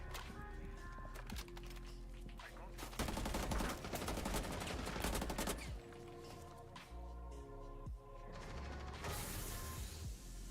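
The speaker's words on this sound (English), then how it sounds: "Reloading!" Mechanical clicks and ratcheting of a gun being reloaded in a video game ring out over continuous game music and gunfire, steady and fairly loud throughout.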